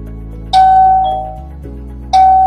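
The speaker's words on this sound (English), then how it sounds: "if someone were to ring the doorbell" A WiFi smart video doorbell (V5) chimes twice, each a loud, clear ding-dong tone ringing up close with a lingering electronic decay between them.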